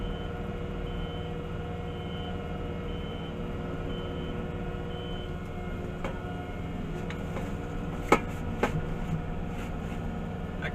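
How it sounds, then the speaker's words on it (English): A can of brake cleaner clonks around inside a running shredding machine. A steady, close mechanical roar runs throughout, and a couple of sharp knocks stand out near the end. "Clonking you're hearing is a can of brake cleaner."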